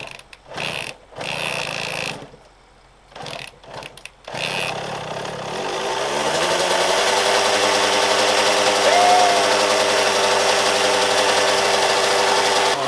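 A small engine, fitted with a new spark plug, sputters through a few short cranking bursts separated by pauses, then catches and settles into a steady, loud running drone.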